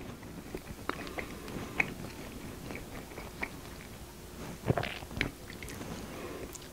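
Close-up chewing of crunchy, cheesy jalapeño bread from a Dutch oven, with wet, squishy mouth sounds and occasional crunchy bites, quiet and irregular.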